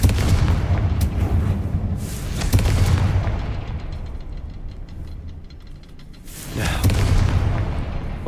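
Confringo fire-blast spells in Hogwarts Legacy go off as several loud, heavy booms with crackling tails, spaced a few seconds apart over a rumbling background.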